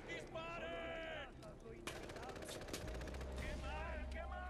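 Gunfire in the video game Far Cry 4 during a fortress assault, with bursts of automatic weapon fire and sharp shots mixed with game sounds and people talking over it.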